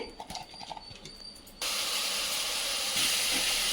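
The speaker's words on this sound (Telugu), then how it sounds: "స్టవ్ వెలుగుతుంది చూడు" A gas stove burner catches after a few faint clicks and handling noises, then gives a steady, close, loud hiss that grows slightly stronger near the end.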